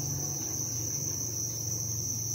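Farmed crickets at a breeding farm chirp in a dense, steady high trill with a pulsing lower buzz beneath, close and constant throughout with no talking.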